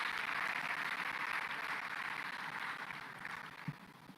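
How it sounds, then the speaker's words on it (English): Crowd applause for young people at an agricultural food systems forum in Tanzania, a dense, steady wash of many hands clapping, fairly distant and soft, slowly fading toward the end. "May I ask you to give a big round of applause to the young people in the room."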